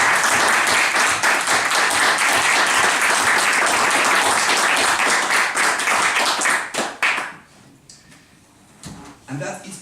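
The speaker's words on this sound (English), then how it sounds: "massive round of applause." An audience at a club's end-of-year president speech bursts into loud, dense applause that runs for several seconds, then thins out into scattered claps as a voice resumes.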